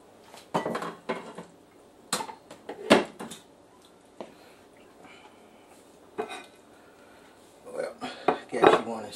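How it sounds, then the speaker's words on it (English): Pots, serving utensils and cutlery clink and scrape in scattered bursts while a spaghetti and meatballs dinner is plated in a home kitchen, moderately close with quiet gaps between sounds. "Let's go ahead and plate this dinner up."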